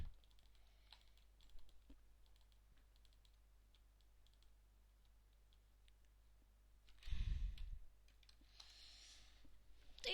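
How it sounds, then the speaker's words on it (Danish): Faint computer mouse clicks tick sparsely during a Minecraft game in a quiet room, with a brief louder rustling burst partway through and no speech. "hvis I kan høre min musklip, det må I meget undskylde"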